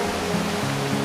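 River flowing beside a well-trodden forest trail in Nova Scotia, a steady, close rush of moving water with a broad, even wash and no voices.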